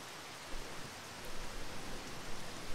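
Steady rain falls in an even, hissing wash of drops, soft and continuous, with a few slightly louder patters and no voices.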